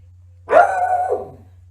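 A single dog bark, close and fairly loud, rising sharply then trailing off into a short whine-like tail, standing alone over a low steady hum.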